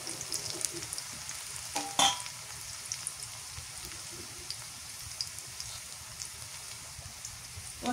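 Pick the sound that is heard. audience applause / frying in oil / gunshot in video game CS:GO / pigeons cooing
frying in oil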